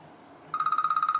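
A phone rings with an incoming call, a sudden steady electronic ring pulsing rapidly and evenly after a quiet start, close and clear with no talking.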